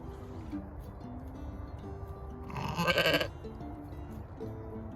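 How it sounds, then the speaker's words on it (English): A sheep gives a single short bleat, faint and close, against a quiet barn background with a soft hum; no one talks. "Good morning, little sheepy sheeps."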